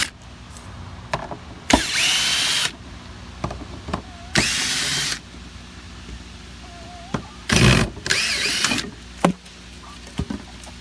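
A power drill drives screws into the mount of an automatic chicken coop door in several loud, whirring bursts of about a second each, separated by quieter handling noises.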